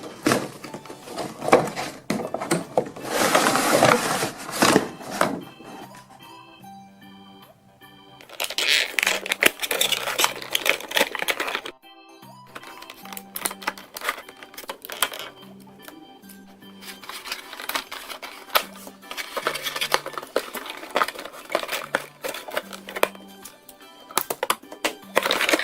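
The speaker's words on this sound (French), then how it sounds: "sans plus tarder, on passe au déballage" Shimmer and Shine Float & Sing Palace blind bag sachets being unwrapped by hand, giving close, intermittent crinkling and rustling of plastic packaging in bursts with brief pauses.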